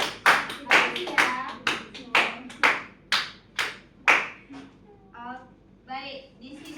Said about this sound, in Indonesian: Beri aplaus kepada teman-teman